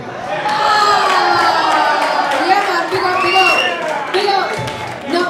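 Live crowd at a performance cheering and clapping continuously, a loud, dense wall of whoops and shouts with steady applause underneath, voices overlapping throughout.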